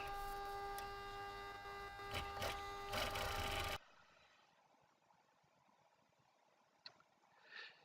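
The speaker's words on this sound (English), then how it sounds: "And then on to sewing. Got the machine going." Electric sewing machine hemming the edges of a vinyl laptop sleeve, a loud steady mechanical whir with dense harmonic hum for about four seconds, then stopping abruptly into quiet room noise with a couple of faint knocks.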